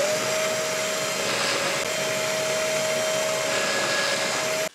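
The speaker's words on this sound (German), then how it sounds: "Dazu bohre ich mir zwei 25 mm Forstnerbohrerlöcher rein" A drill bores into wood with a 25 mm Forstner bit, giving a steady, loud whine and grinding drone that holds for several seconds and then stops abruptly.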